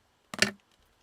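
Scissors make one quick cut through junk journal paper, a short crisp snip of a few rapid clicks. Silence comes before and after it.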